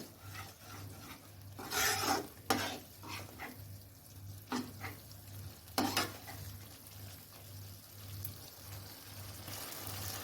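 Roasted cashew paste is sautéed in a pan for cheese kofta curry with raw banana, a spatula rasping and scraping through the paste in irregular strokes over a faint sizzle, near and unaccompanied by voices.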